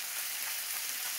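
Onions and fennel browning in a hot pan, a steady dense sizzle of frying with no talk over it.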